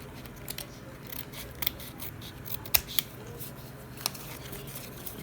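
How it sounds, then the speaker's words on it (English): Scissors trimming the edge of a recycled advertising card, several sharp crisp snips spaced irregularly over a quiet background, one louder cut in the middle. "Let's trim off this edge."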